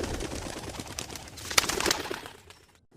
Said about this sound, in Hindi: ये सारे कबूतर ही कबूतर हैं।